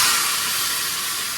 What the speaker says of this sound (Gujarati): આ બાજુ હવે અડદની દાળનો વઘાર થાય છે